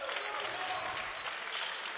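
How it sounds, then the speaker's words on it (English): Crowd applause at an NCAA Tournament men's basketball game, Midwestern State vs St. Edward's, as a St. Edward's senior limps off the court; steady, dense clapping fills the arena for two seconds. "He gets a hand clap."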